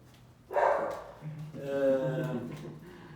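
A dog barks twice, a sharp bark followed a moment later by a longer, more drawn-out bark, fairly close and alone over a quiet indoor background.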